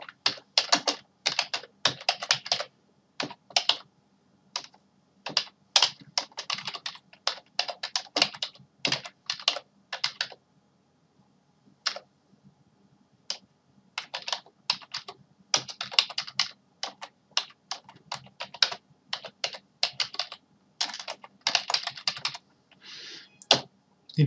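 Typing on a computer keyboard, bursts of rapid close key clicks with short pauses between phrases, steady and fairly quiet with no talk.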